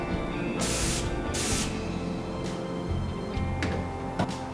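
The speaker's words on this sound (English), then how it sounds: "I spray my glazes at a very low pressure, more like a splatter, and this avoids making it an aerosol." A pottery glaze is sprayed at very low pressure from a compressor-fed sprayer, giving a soft splattering spray: two short hissing bursts, then fainter brief spurts over a quiet background hum, with no talk.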